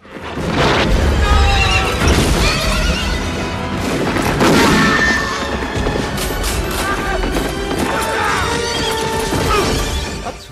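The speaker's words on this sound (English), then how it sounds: "Impressive stunt work with the horses." Horses neigh and whinny loudly amid crashes and thuds in a battle scene from the 1994 film Legends of the Fall, with dense, continuous action noise throughout.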